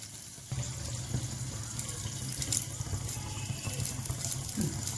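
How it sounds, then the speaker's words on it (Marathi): Water pours into a pan of stuffed bitter gourd curry, starting abruptly and running as a steady close splashing stream for several seconds. "याच्यावरती झाकण ठेवायचंय आणि थोडंसं पाणी टाकायचंय"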